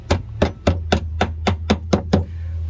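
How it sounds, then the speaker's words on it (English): A small hammer taps a windshield washer pump part into place on a BMW 128i, nine sharp, evenly spaced metallic knocks over a steady low hum, close and distinct. "Might require a bit of persuasion, maybe with a rubber mallet, or even in this case, a little hammer will do it."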